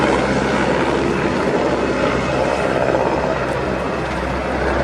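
Loud, steady roar and rotor thrum of a Czech Air Force PZL-Swidnik W-3A Sokol military helicopter flying nearby in a pair display at RIAT 2025, an unbroken engine noise filling the whole stretch.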